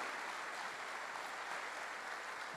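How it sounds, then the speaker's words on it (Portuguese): A church congregation claps in praise during a sermon, a faint, even patter of many hands heard from a distance and held steady for a few seconds. "Pode aplaudir o Senhor, glória a Deus."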